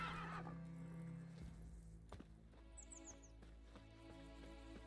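Roach, Geralt's horse in The Witcher 3, gives a loud whinny followed by trotting hoofbeats, with a few small bird chirps in the background.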